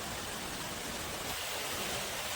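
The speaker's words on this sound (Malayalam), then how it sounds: "ഒരു കാടിനുള്ളില് വലിയ വെള്ളച്ചാട്ടം. ഇത് കുത്തൊഴുക്കുള്ളതാണ്." A steady, full rushing roar of a strong-current forest waterfall heard up close, constant and unbroken throughout.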